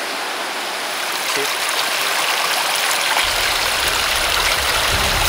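A mountain stream rushes along a hiking trail on the Camino Lebaniego, a steady broadband wash of flowing water that thickens and deepens toward the end, with no voices.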